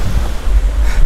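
Sea waves wash onto the beach at Mae Phim, Rayong, as a loud, steady rushing roar heavily mixed with wind buffeting the microphone, with no talking.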